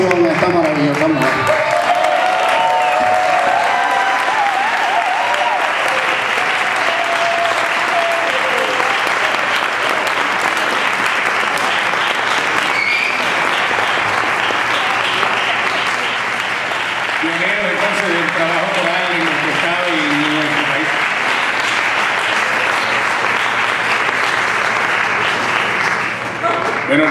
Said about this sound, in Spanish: Pido que todos juntos le demos una ovación a esta maravillosa mujer.